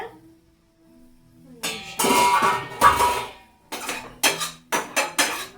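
A spoon clinks and scrapes against a pot of Maggi noodles, first a dense stretch of stirring, then several sharp, separate taps in quick succession, close and loud with no talking.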